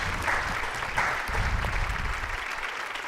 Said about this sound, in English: Now we give her a big round of applause.